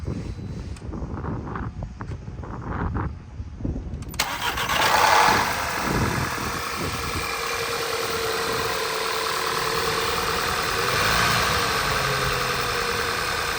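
2013 Volkswagen CC with a dead battery cranking for several seconds, then catching and starting with a loud rev before settling into a steady, even idle close by, no talking.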